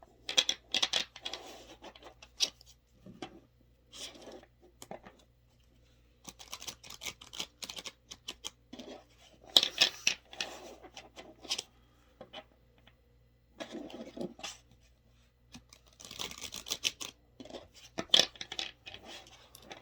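A deck of tarot cards is shuffled by hand in repeated bursts of crisp riffling and flicking, close and fairly quiet, separated by short pauses over a steady low hum.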